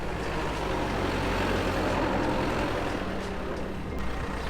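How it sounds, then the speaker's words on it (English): A backhoe rumbles steadily down a road on a cold, icy day, a continuous low engine drone with a constant background roar and no voices. "Al is driving down the road right now in the backhoe"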